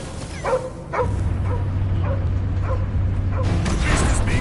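Cosmo the dog yips and whimpers in a series of short, excited barks over a steady low rumble and game action in Guardians of the Galaxy, with a voice briefly heard.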